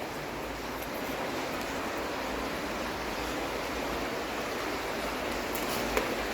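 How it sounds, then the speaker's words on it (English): Water flowing steadily through an underground river tunnel beneath a town, a constant broadband rush that holds even and moderately loud for the whole stretch, with no voices. "I can hear water flowing up ahead"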